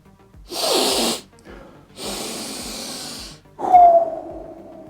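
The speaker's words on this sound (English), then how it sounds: "We gotta come in for a sniff test." Two long nasal inhales, each about half a second or more, close to the mic, then a shorter snort-like sniff with a brief tone.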